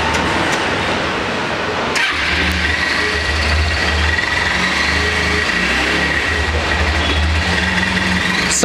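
Honda Hornet motorcycle engine running steadily, a close, continuous mid-pitched engine drone with a brief dip and restart of the sound early on, no talking.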